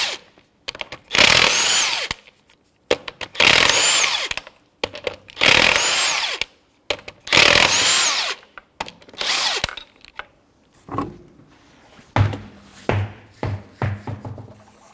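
Power tool with a 19mm socket spinning off wheel lug nuts on a 2002-2005 Ford Explorer, four loud close bursts of whirring impact in a regular rhythm, then shorter fainter clicks and clunks.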